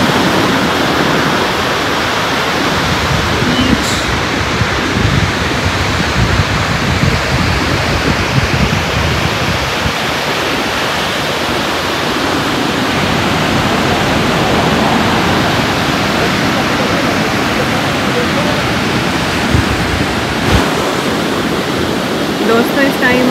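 Sea waves on a Melbourne beach make a loud, continuous broadband roar of surf close by, with wind-like wash throughout and a few faint knocks, and no clear talk.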